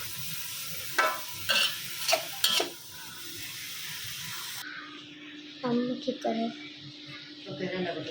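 Eggplant being stirred and fried in a pan, with a steady hiss of frying oil and several sharp scraping stirs, sizzling continuing after a cut, while a person talks nearby.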